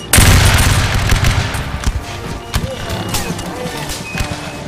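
Battle reenactors at the Battle of Camden fire a musket volley, a loud close burst of overlapping shots followed by scattered cracks and booms with rumbling echo, and voices shouting over it.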